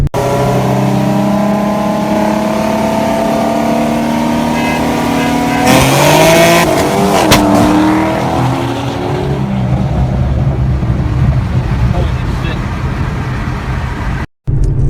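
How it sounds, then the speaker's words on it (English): A 3.7L Mustang running nitrous and a two-step launch control roars loudly, with a sharp pop and a sudden rev change as a shift is missed, then the engine drones on before a brief cutout. "if you have a 2-step and you miss a shift with nitrous, bad things will happen, such as this."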